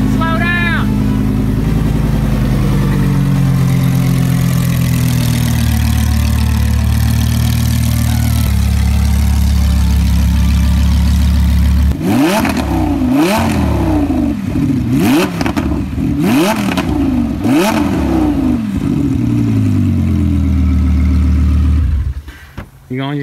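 A drag strip build car idles with a steady low rumble, then catches a series of sharp throttle blips that rise and fall in pitch before it settles and cuts off. Voices talk over parts of it.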